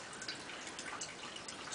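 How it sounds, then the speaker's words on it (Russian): Last drops of beer wort draining from spent grain during lautering for a Hoegaarden-style clone, a steady close dripping and trickling of liquid with no talk over it. "Вот уже сливаются последние капли."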